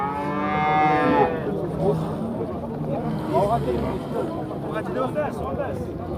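A cow with a calf moos loudly at a livestock bazaar: one long drawn-out bellow up close, then a shorter call amid a steady babble of voices and crowd noise.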